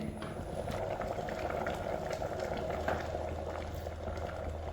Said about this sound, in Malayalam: ഇത് നന്നായിട്ടൊന്ന് തിളച്ച് കുറുകി വരട്ടെ